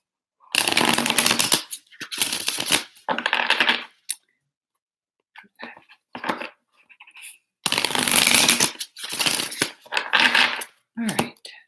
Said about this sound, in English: Let me just get you a couple cards from this deck